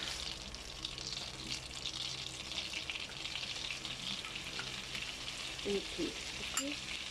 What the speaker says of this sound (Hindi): इसको हम थोड़ा सा भून लेंगे इसी बटर के अंदर।